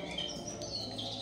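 A young F2 rasmi songbird about two and a half months old, chirping in quick, close, high twittering notes with a faint background hum.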